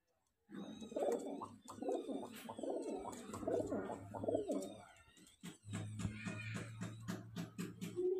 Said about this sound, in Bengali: এই যে দেখুন নর পায়রাটা দেখতে পাচ্ছেন ফ্রেন্ড